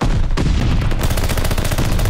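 Rapid automatic gunfire rattles in Call of Duty Vanguard, a loud, dense burst of close shots with no pauses, heard alone without talk.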